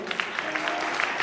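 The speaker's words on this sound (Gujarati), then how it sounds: "પ્લીઝ તાળીઓથી બતાવજો." Audience at a primary school musical function claps steadily throughout, a dense wash of applause with no pauses and a few sharper individual claps standing out.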